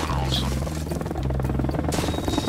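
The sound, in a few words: enemy helicopter in video game Arma Reforger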